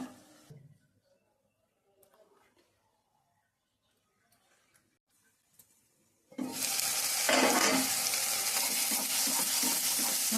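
Masala for a sand fish curry frying in a pan, a loud steady sizzle that bursts in suddenly after several seconds of near silence with faint clinks and light handling.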